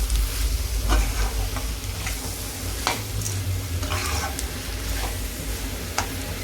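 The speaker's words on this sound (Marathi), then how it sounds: "ही बघा आपण अशी छान भाजी ही परतून घ्यायची चांगली ह्याला एक छान वाफ देऊन घ्यायची" Potato sabzi (batata bhaji) is stir-fried in a pan, giving a steady sizzle with intermittent scraping stirs and a soft hiss of steam, close and continuous.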